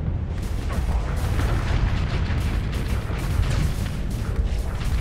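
Spaceship weapons in the Starsector video game fire continuously, a dense, loud wash of booming blasts and rumbling impacts with no clear gaps between shots.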